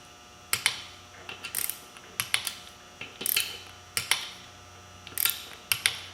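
Bolts on a beadlock rim for a 2003 Polaris Ranger 6x6 tire are tightened with a ratcheting tool, giving short clicking bursts repeated in an irregular rhythm, close and fairly quiet.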